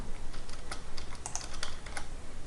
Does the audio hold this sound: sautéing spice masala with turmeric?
no